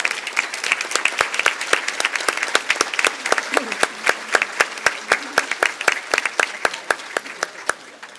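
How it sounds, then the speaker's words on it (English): An audience at an award ceremony gives steady, rhythmic applause with sharp, closely spaced claps that carry on evenly for several seconds and taper slightly at the end. "please join me in giving her a very special round of applause for her vision and her efforts."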